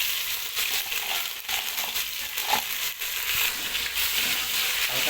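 Browned onions with ginger garlic paste fry in a pan, giving a soft steady sizzle broken by light scraping and stirring strokes, close by and fairly quiet, without speech.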